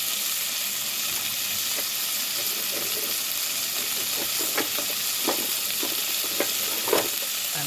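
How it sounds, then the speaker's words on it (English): Ginger frying in butter and oil, making a steady close sizzle with scattered sharp pops and crackles that grow more frequent toward the end. There is no talking. "I have some butter and I have some oil and I'm going to add my ginger to that"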